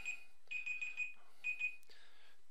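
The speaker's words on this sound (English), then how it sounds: "It was just my alarm." An alarm clock rings nearby in repeated electronic beeping bursts, irregularly spaced, in a quiet room, with a brief click near the end.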